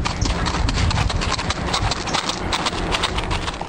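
Horse hooves clip-clop steadily on a street in São Luís do Purunã, Paraná, where horses are the main transport, a dense, continuous run of close hoofbeats with no voices.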